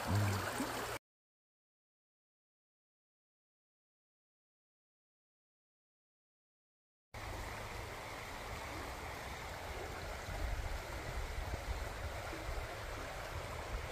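Steady rushing of flowing creek water in Indiana, a continuous broadband wash that cuts out briefly and then resumes at the same level.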